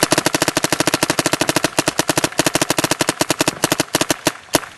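Azodin Blitz paintball marker fired outdoors across a field in a long rapid string of sharp, evenly spaced shots, loud and close, with no talking.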